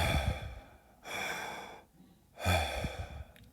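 A voice imitates a bronchial breath sound: three harsh, hollow breathy rushes, each about a second long, separated by brief pauses, close and moderately loud.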